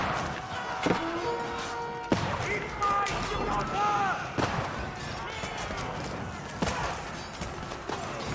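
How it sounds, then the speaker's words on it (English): Hand cannon volleys crackle from both armies in a late-game Age of Empires 4 tournament battle, irregular sharp shots mixed with clashing game effects beneath continuous commentator talk. "Hand cannons"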